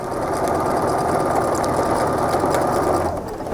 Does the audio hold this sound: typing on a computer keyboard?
no